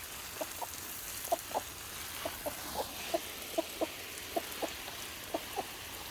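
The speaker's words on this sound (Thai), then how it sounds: "นั่นคือคือน้องไก่นะครับนี่ครับ มีตัวผู้คุมฝูงหนึ่งตัวนะครับ แล้วก็มีตัวเมียอยู่ประมาณ9ตัว" A small flock of chickens, one rooster with about nine hens, clucks softly in short, scattered pairs and single notes, faint against a steady background hiss.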